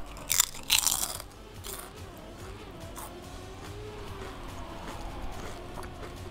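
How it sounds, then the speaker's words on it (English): A chip-eating crunch sound effect plays in the background: a few loud, sharp crunches near the start, then a steady muffled chewing texture at moderate volume, with no talk. "Extreme crunch sound."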